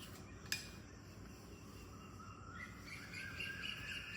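Birds chirp softly in the quiet before dawn. A brief clink sounds early, insects trill faintly, and the calls grow a little busier toward the end.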